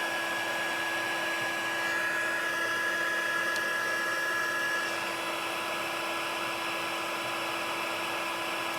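A heat tool blows hot air to melt embossing powder on a card, giving a continuous, even, hair-dryer-like whoosh with a faint motor whine, steady and unbroken from start to finish.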